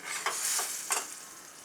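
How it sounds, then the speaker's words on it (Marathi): Sandge dumplings sautéing in masala over a low gas flame give a soft, steady sizzle, with a few brief stirring scrapes standing out near and alone. "बारीक गॅसवरच याला मी चांगलं मसाल्यामध्ये परतून घेणार आहे"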